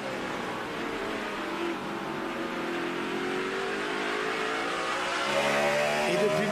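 Onboard engine of a NASCAR Sprint Cup race car during a 2009 race, a steady loud drone with rising and falling harmonics as it revs, continuous throughout with a brief surge near the end.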